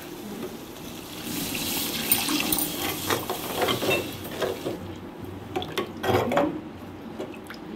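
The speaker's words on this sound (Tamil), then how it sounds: "இப்போ நம்ம தண்ணி விட்டுக்கலாம்." Water is poured into fried masala in a pan while making Kerala sardine curry, giving a steady splashing and gushing pour with bursts of sizzle and clatter. No one speaks.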